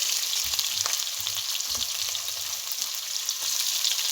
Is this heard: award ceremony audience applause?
no